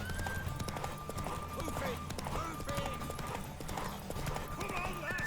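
A horse gallops with steady, rapid clip-clop hoofbeats in The Witcher 3 video game, heard throughout under game music and voices, with a brief whinny.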